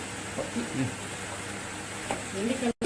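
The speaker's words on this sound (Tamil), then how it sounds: "கொத்தமல்லியை நல்லா ஒரு வதக்கு வதக்கிடுங்க வெங்காயம் தக்காளி மூணு சேர்ந்து வதக்கிடுங்க" Onion, tomato and coriander sautéing in a pan for onion-coriander chutney give a soft, steady sizzle with faint stirring scrapes, while a voice talks over it.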